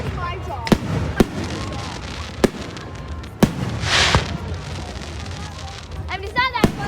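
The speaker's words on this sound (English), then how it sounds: "it's not that fun to keep lighting fireworks over and over" Fourth of July fireworks go off in a series of sharp, loud bangs and pops, with a crackling burst in the middle, as people talk nearby.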